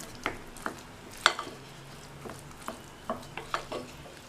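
A spoon mixing roasted spice powder into tamarind rice in a pot gives a handful of short scrapes and taps at uneven intervals, close and fairly quiet.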